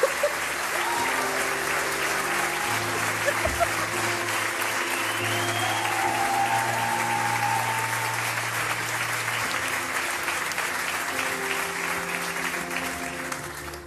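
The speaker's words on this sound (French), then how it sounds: "Merci d'accueillir, sous vos applaudissements, Kenzo." Audience applause in a French television studio, sustained clapping from a large crowd that holds steady for over ten seconds with music playing underneath, tapering slightly at the close.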